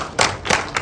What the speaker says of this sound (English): So one more little round of applause for him